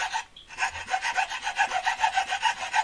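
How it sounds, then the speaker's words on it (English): A hacksaw cutting through a toilet, with rapid, even back-and-forth rasping strokes, loud and close, alone without talk. "Cutting this off with the hacksaw."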